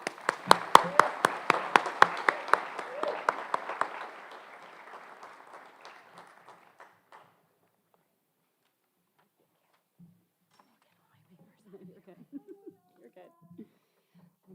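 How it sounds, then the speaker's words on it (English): Audience applause at a high school senior awards night, a burst of clapping from many hands that tapers off within a few seconds, followed by quiet with faint scattered sounds. "So one more round of applause."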